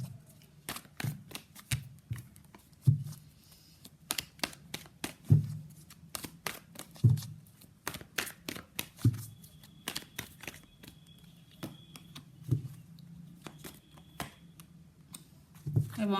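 Tarot cards shuffled by hand, a close series of soft riffling flicks and slaps repeating irregularly throughout, with faint handling noise between them.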